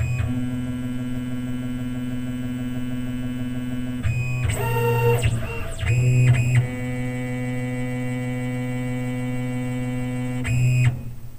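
A CNC machine runs a touch-probe calibration cycle, with a steady electrical hum and whine underneath and several short bursts of motor movement and beeping tones as the probe seeks centres.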